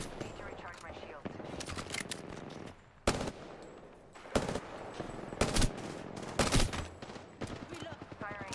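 Rapid video-game gunfire crackles in repeated close bursts and single shots across a busy battle-royale firefight, with brief gaps between volleys.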